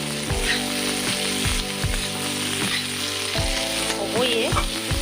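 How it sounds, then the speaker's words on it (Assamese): Taro stems frying in a pan with turmeric, stirred by a utensil that scrapes in a steady repeated rhythm over constant close sizzling, with no voices. "ভাজাখন লাৰি আছোঁ আমি"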